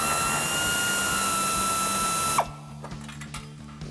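A ratchet backs out a 10mm bolt behind a truck's bumper cover. A steady mechanical whir gives way to a quick run of close, sharp clicks near the end.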